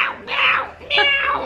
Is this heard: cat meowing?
yes